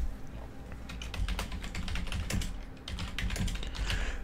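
Typing on a computer keyboard to name a new Google Drive folder: a quick, steady run of close, light key clicks with brief pauses, quiet and without talk.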